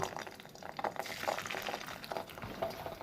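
Fish roe fritters sizzle and bubble in hot mustard oil, a crackling, spattering fry with irregular pops and hisses, close and fairly quiet.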